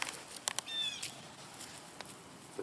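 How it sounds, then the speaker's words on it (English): A cat in a cemetery in Tupelo, Mississippi gives a short, faint meow amid a few scattered clicks and light outdoor noise, with no one speaking. "The cemetery cat."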